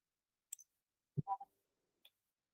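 Faint computer mouse clicks during a cloud lab setup: a couple of tiny ticks, then a slightly louder double click near the middle and one last small tick, isolated against silence.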